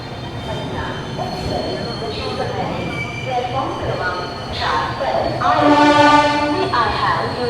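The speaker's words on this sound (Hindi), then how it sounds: "18238 Amritsar Bilaspur Express is arriving shortly on platform number 3." The Amritsar Bilaspur Express rolls into a railway station platform with a heavy rumble, rising squeals and a horn-like tone, while a public-address voice speaks over it.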